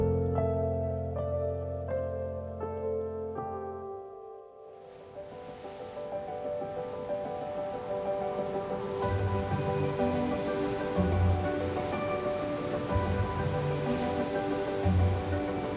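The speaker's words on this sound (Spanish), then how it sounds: "El viento golpeando el rostro, las olas rompiendo contra el acantilado" Waves crash against a sea cliff, a broad roaring surf that swells in after a few seconds of soft music and keeps surging with heavier breaks rolling in over the music.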